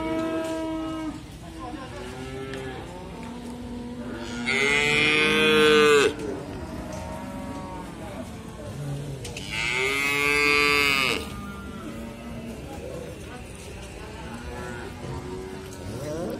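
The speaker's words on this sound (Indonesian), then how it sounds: "sapi-sapi siap potong di pasar hewan Mundilan Kabupaten Magelang" Cattle moo loudly twice, long drawn-out calls close by, amid a busy livestock market in Muntilan, Magelang, with murmuring people and other distant animal sounds.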